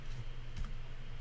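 A single computer mouse click sounds faintly against a steady background hum, made while working in music production software.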